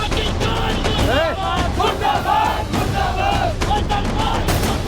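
A dense street crowd at an anti-Pakistan protest, voices chanting slogans and shouting together in a loud, continuous roar with rising and falling cries.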